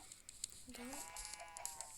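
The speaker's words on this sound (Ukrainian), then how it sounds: "Курки" Short clucking Minecraft chicken sounds, small and synthetic, with a faint rising squawk in the middle, set against quiet background noise.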